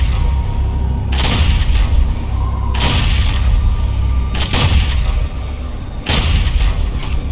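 Heavy weapon fire from the video game Doom Eternal: four loud, booming shots spaced roughly a second and a half apart, each a broad blast with a trailing rumble, over a constant low game din.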